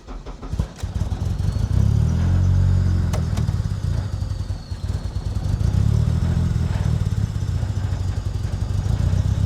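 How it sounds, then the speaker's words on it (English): A supercharged K24-swapped 7th-generation Honda Civic engine cranks and fires, then settles into a rough, rumbling idle that swells and eases, loud and close. "So let's try firing it up again, see if it catches a little more quickly,"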